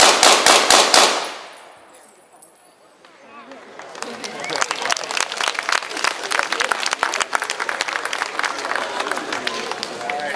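WW2 machine gun fired at an outdoor demonstration: a loud rapid burst of shots at the start, a brief lull, then crowd noise and applause-like clatter that runs to the end.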